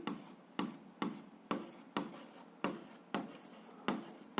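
A pen scratches out an algebra equation by hand in close, quiet strokes, each stroke a sharp scrape that fades away, repeating about every half second in a steady rhythm, with no voices.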